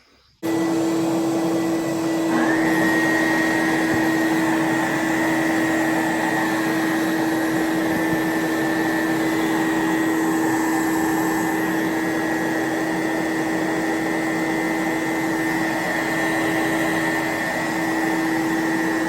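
A loud, steady Bissell Big Green carpet cleaner switches on and runs continuously, with a high whine layered over a deep hum and rushing suction noise.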